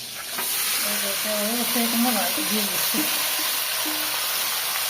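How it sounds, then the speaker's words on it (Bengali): Fish, onion and garlic fry in a hot pan with a loud, continuous close sizzle and hiss, while a voice briefly speaks over it. "পেঁয়াজ রসুন কাঁচা জল ভেজে নিচ্ছে, মাছটা ভেজে নিচ্ছে।"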